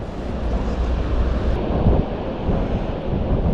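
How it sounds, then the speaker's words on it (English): Surf waves roll at a lagoon in Carlsbad, California under strong wind buffeting the microphone, a loud continuous roar with no voices. "surf is up and the wind is cranking"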